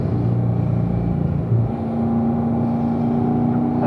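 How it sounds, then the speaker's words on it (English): A Corvette on the Spring Mountain track gives a steady, loud engine drone that builds as the throttle opens, with a rising tonal whine coming through over constant low rumble. "squeezing the throttle there, Bob"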